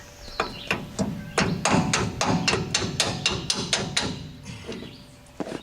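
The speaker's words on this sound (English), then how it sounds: "See if you can bang it flat." A small hammer bangs repeatedly on the remnants of a grease fitting on a Chevy K-10 axle, a quick rhythmic series of close metallic taps and thuds with no pause.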